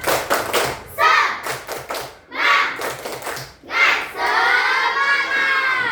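A classroom of students performs a rhythmic spirit clap in bursts, sharp patterned claps alternating with shouted chant, loud and close, ending in a sustained cheering cry.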